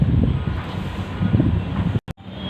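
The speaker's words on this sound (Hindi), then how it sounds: "बिल्कुल शांत वातावरण है और हवा चल रही है।" Steady outdoor wind rushes and buffets across the whole stretch near residential towers in Noida, with low rumbling gusts and a brief dropout near the end.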